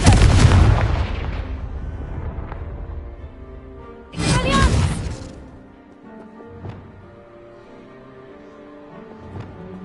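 A Confringo spell explosion from Hogwarts Legacy blasts through a pile of blocking debris, a loud booming burst followed by a second crashing blast a few seconds later, then softer rumbling thuds fading out.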